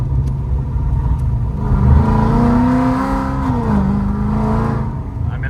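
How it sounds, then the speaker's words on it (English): A Dodge Challenger with a 426 Hemi V8 is revved lightly up close, its deep rumbling engine note swelling and easing in a couple of throttle blips with no one talking. "I'm barely touching the throttle, like, woof"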